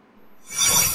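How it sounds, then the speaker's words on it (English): A computer plays a short trigger sound when a DisplayFusion trigger activates, arriving after quiet as a sudden bright, airy burst that lasts about half a second. "That's the sound of my display fusion trigger being triggered."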